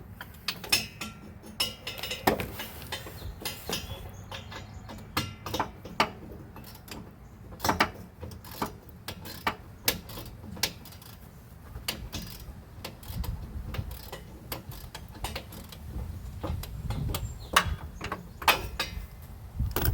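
Wrench clicks and metallic knocks sound while work goes on beneath a 1965 Ford Thunderbird during a rebuild, giving sharp, irregular taps over a low rumble in a quiet garage with no talk.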